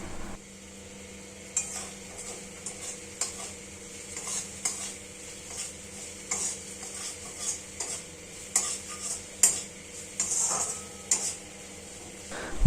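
A spice masala being stir-fried in a pan for soybean do-piyaja, giving steady scraping and stirring strokes with a soft sizzle underneath, fairly quiet and close, with no talking.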